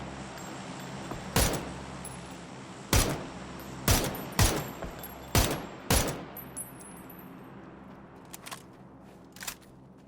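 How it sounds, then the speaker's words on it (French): Gunfire in the battle royale game PUBG: roughly seven sharp single shots at irregular intervals, loud and close over a steady low ambient hum, followed by a couple of fainter, more distant pops toward the end. "Il y en a un qui tire ici, mais je le vois pas"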